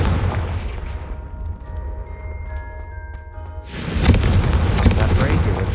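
In the Hogwarts Legacy video game, a Confringo spell goes off as a sudden loud fiery blast midway through. It follows a voice and quiet ambient tones, and a heavy roar continues after it.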